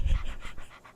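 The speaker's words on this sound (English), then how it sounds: "It's a dog." A dog pants in quick, close breaths, a short burst of rhythmic huffing lasting about a second with no talk over it.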